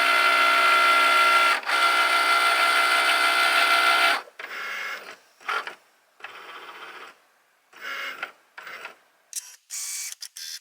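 A craft cutting machine runs its scan of the mat, a loud mechanical whir for about four seconds, then a series of shorter motor bursts and pauses as it moves.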